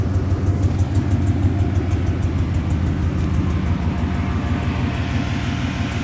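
A steady, deep exhaust drone from a straight-piped Ford Mustang with Valvetronic mufflers rumbles continuously at close range, low and throaty with no speech over it.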